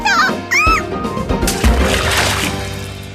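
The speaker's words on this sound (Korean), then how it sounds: "풍덩! 그 바람에 그만 구슬이 강에 빠지고 말았어요." A marble drops into a river with a splash, a cartoon-style story sound effect heard close and fairly loud, mixed with chirpy bird-like tones at the start and a broad watery wash that fades over a few seconds.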